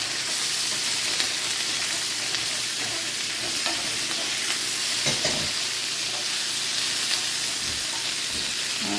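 Black pepper chicken and onion frying in oil, a steady close sizzle and hiss with occasional stirring scrapes throughout, no talking.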